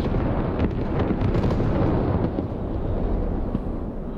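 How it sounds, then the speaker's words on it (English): Artillery ranging shot landing in the tactical shooter game Squad, a dense, loud low rumble of explosion that rolls and sustains across the whole moment before easing slightly at the end. "There's the first ranging shot."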